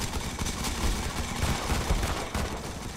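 Shotgun fire in the Modern Combat 5 mobile shooter game, dense overlapping shots and battle noise throughout, with no talking heard.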